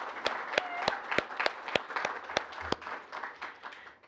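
Audience applause at a student leadership awards event after a keynote address: steady rhythmic clapping from a seated crowd with a few loud close claps standing out over the general patter, fairly quiet overall and gradually tapering off.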